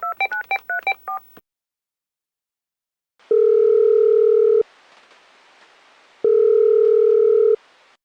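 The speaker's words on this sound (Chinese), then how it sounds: "陈天龙不接电话。" A phone number is dialed with a quick run of touch-tone beeps, then the line rings back twice with long steady tones and a pause between, the call going unanswered.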